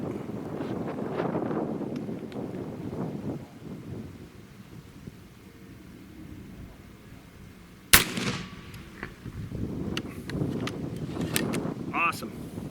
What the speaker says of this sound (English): we're going to go ahead and shoot 3 shots